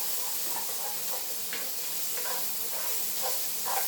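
Slices of baby corn fry in hot oil in a pan, giving a steady close sizzle and hiss with faint crackles and stirring scrapes throughout, no voices.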